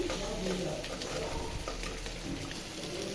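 Masala spice paste being sautéed in a pan for a koi fish curry, a continuous close sizzle with faint stirring, steady throughout.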